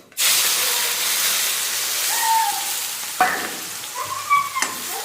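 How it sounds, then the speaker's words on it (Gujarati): Garlic and onion paste hits hot oil already seasoned with mustard seeds and asafoetida, bursting into a loud, sudden sizzle that settles into a steady hiss. Several sharp clatters and scrapes of stirring follow near the end. "હવે એમાં નાખીશું લસણ ડુંગળીનો પેસ્ટ"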